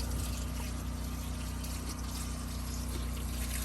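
Water filling a Costway 20 lb portable washing machine loaded with clothes, a constant rushing pour mixed with a low pump-like hum, steady and unbroken throughout.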